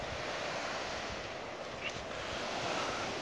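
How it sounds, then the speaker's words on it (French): Surf washes onto the white sand beach of Anse Forbans in the Seychelles, a soft continuous hiss of breaking waves mixed with light wind noise, fairly faint and without talk. "ici, c'est la plage Danse Forban"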